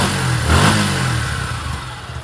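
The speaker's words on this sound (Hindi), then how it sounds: "अब करते हैं इसको थोड़ा रेव और सही से सुनाते हैं आप लोगों को साउंड।" Suzuki Gixxer SF150 motorcycle engine revved while standing, a loud close mid-pitched rise and fall of the engine over about two seconds, with no talk.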